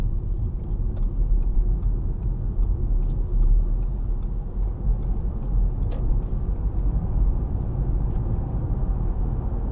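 2013 Audi A4 Avant 1.8 TFSI with a Multitronic automatic gearbox rounding a corner, giving a steady low engine and road rumble from inside the cabin, even and unbroken, with no talking.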